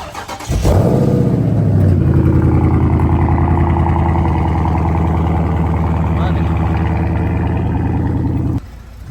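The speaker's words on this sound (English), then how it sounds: "Move my car out of the way." A Cadillac CTS engine starts and runs with a steady, loud idle hum as the car is moved, continuing for several seconds before cutting off.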